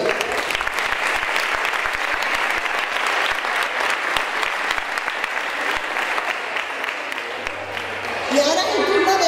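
A crowd at a political rally for local elections gives dense, continuous applause for about nine seconds, loud and steady, with a voice starting to speak near the end.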